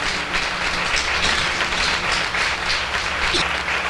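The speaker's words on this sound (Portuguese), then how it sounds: "Dê um aplauso a Jesus por isso." Congregation applause at a church service, a loud steady roar of many hands clapping together without a break, no speech over it.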